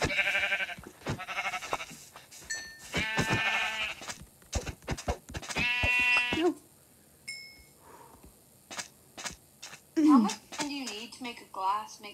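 Sheep bleating in the Minecraft video game, a few wavering nasal bleats heard between and under the chatter of players talking.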